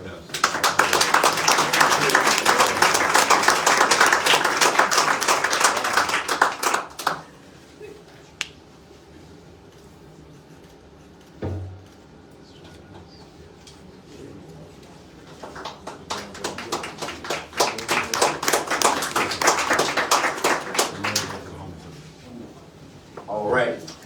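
Audience clapping at a city grant awards announcement for a housing fund, two loud bursts of applause from a sizable crowd separated by a quieter stretch with a few stray claps and background noise.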